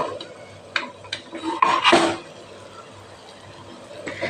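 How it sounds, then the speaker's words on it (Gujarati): A metal pan clanks onto the rim inside a pressure cooker while kitchen dhokla is prepared, with several light metallic taps and one louder scraping clatter, close and without speech. "હવે આપણે તપેલીને રાખી દઈશું કાંઠા ઉપર"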